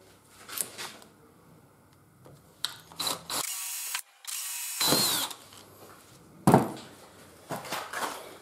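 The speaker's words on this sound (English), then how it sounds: "I'll drill them out with a 3mm pilot again" A power drill whines in short, loud bursts, drilling 3mm pilot holes for a windscreen bracket on a Honda Africa Twin CRF1000, revving up and stopping a few times, with clicks and handling noises between runs.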